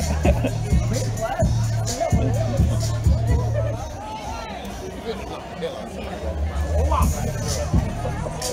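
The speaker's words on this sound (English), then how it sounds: "There's still a pretty good crowd" Steady crowd babble at a small-town fall festival in Jefferson, South Carolina, many overlapping voices close and continuous, with low rhythmic music thumping underneath for most of the stretch.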